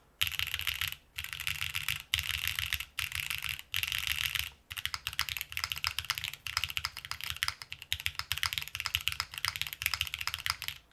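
Typing on an Enso-E mechanical keyboard fitted with KAP keycaps: steady, close clacky keystrokes in quick bursts with brief pauses, and no talking.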